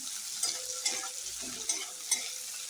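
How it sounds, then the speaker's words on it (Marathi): Onion and capsicum stir-fried over a high flame for chilli potato, a soft steady sizzle with a few sharp spatula scrapes against the pan at irregular intervals. "कांदा त्याच्यात घालून एकदम हाय फ्लेमवर चांगलं परतून घालायचं"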